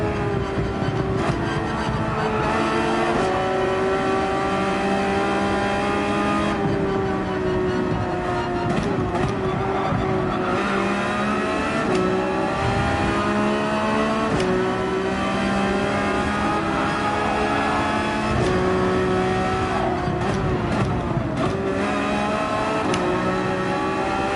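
Mid-engine race cars in Gran Turismo 7 at the Red Bull Ring, engine note revving up and down through gear changes and corners for the whole stretch; a loud, continuous whine that rises and falls, with no speech.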